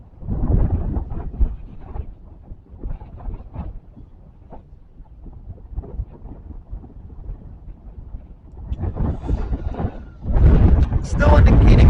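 Strong gusting wind from Hurricane Idalia's landfall roars across an open microphone, with broad low rumbling buffets that swell heavily toward the end.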